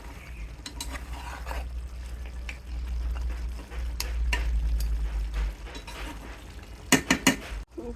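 Spatula scraping and stirring fish curry with green chillies in a pan, soft scrapes and a low simmering bubble, then a few sharp metallic clanks near the end, close by and with no talking.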